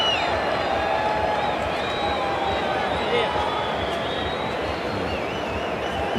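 A cricket crowd at a test match between Australia and South Africa makes a loud, continuous roar of cheering and clapping under a commentator's talk.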